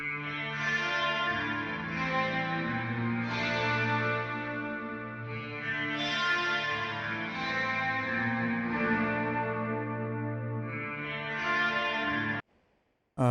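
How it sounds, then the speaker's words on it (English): Sustained electric guitar chords ring out alone, washed in lush FabFilter Pro-R reverb with a wavering, shimmering chorus modulation, then cut off abruptly near the end. "The chorus, the more you turn this knob towards the chorus, the more modulated it becomes."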